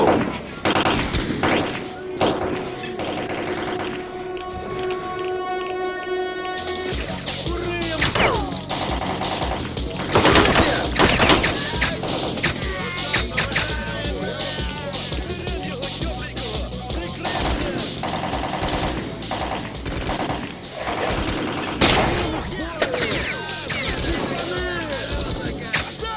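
Bursts of machine gun fire ring out during a street battle in S.T.A.L.K.E.R.: Clear Sky, with rapid rattling volleys and scattered single shots repeating over a long stretch while voices call out between them.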